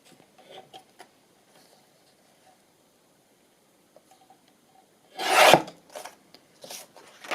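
Paper trimming across the top of a craft piece gives a short, close rasping cut that rises from near quiet, followed by a few faint scratchy strokes.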